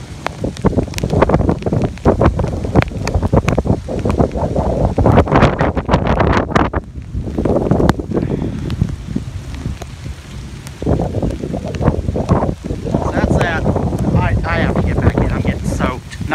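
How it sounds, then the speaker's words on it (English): Heavy wind in wet, rainy weather roars and buffets the microphone throughout, with a brief lull partway through. "it is very windy and wet."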